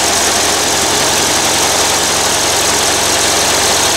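An old VW engine, started cold after sitting for eight years with an iced-up intake manifold, runs with a loud, steady, rough idle close by, with nothing else heard.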